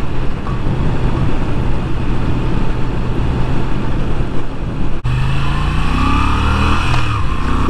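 A Moto Guzzi V7 Stone motorcycle engine drones steadily while riding, loud and close; after a brief break, the engine note rises as the bike accelerates, with no talk over it.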